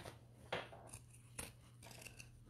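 Scissors cut fabric for a bucket tote bag, giving a few quiet, separate snips against a soft background hum, with no talking.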